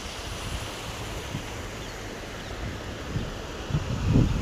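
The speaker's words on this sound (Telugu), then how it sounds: "ఇప్పుడు చూస్తే చాలా తక్కువ అలలు," Calmer ocean waves wash against a rocky shore in a steady low surf roar with wind noise, swelling slightly near the end, with no voices.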